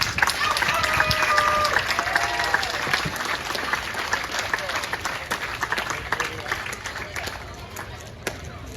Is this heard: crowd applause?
yes